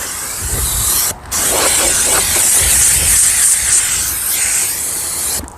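A loud, continuous hiss of pressurized steam spraying close by from a steam cleaner, briefly cutting out twice before resuming.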